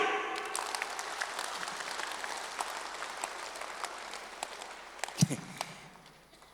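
A large audience at a parenting awareness class applauds loudly, with dense, sustained clapping that gradually thins and fades at the end.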